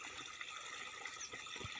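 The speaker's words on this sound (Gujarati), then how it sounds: "તો હવે અહીંથી અવિરત પાણી જાહે." Irrigation water flows steadily into a farm field's furrowed beds in a village, giving a continuous, fairly faint gushing wash with no talk.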